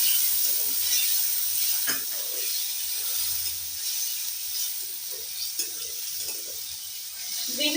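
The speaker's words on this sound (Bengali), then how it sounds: "এবার মশলার মধ্যে একটু জল দিয়ে দেবো, মশলাটা ভালো করে খেতে হবে।" Spice paste for a brinjal chicken curry gravy sizzles and hisses in a pan as water is added, with a steady bubbling fizz and occasional soft stirring knocks.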